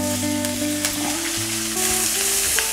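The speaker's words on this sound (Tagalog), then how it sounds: "gisa na ang ating sibuyas." Onions and garlic sizzle steadily in hot oil for pinakbet, a bright continuous frying hiss with occasional stirring clinks, close and loud with no talk.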